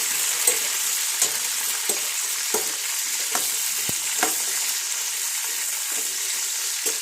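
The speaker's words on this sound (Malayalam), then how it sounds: "നല്ലെണ്ണയ്ക്കകത്ത് ഇട്ടിട്ട് പയ്യെ ഒന്ന് വഴറ്റിയെടുക്കാം" Star fruit is sautéed in sesame oil for a homemade pickle, making a constant close frying hiss punctuated by light, regular knocks and scrapes from stirring.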